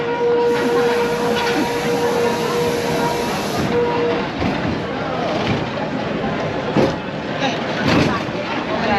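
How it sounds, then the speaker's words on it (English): A Soller tram runs through Mallorca in late December, a steady close rumble with wheel-on-rail hiss and a sustained whining tone for the first few seconds, with faint voices nearby. "The tram is running."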